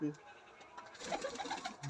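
Andra pigeons kept in a closed loft room, soft low cooing rising and falling in the background while someone talks nearby.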